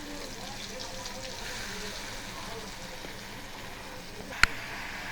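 Onions sizzle in hot oil in a pan while cooking a kutub paratha, a soft continuous frying hiss with one sharp clink partway through; a voice speaks faintly in the background.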